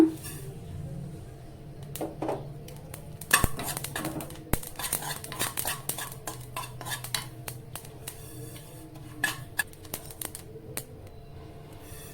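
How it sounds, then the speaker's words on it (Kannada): A tablespoon of poppy seeds roasting in a pan, with irregular light metallic scrapes and clinks of a spatula stirring against the pan, close but soft over a faint background hum. "ಈಗ 1 ಟೇಬಲ್ ಸ್ಪೂನ್ ಗಸಗಸೆನ ಹುರ್ಕೊಳ್ಳೋಣ"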